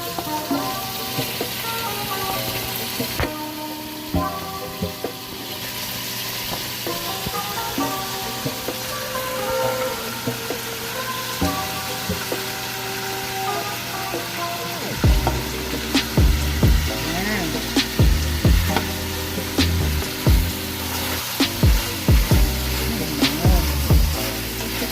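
Pork dropped into a pan of browned garlic, a loud sizzle that jumps sharply partway through and carries on as a steady close frying hiss with clinks of stirring.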